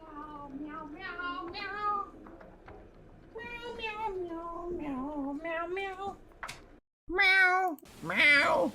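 A person imitates a cat with a long run of high, sing-song meows, some short and some drawn out, repeated in quick bursts with brief pauses, close and fairly loud.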